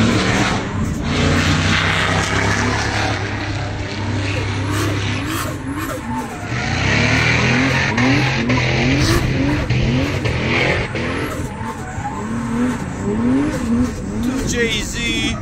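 A Toyota Supra does a loud, close burnout, its engine revving hard in rising and falling bursts while the tires squeal and skid continuously, with crowd voices mixed into the din.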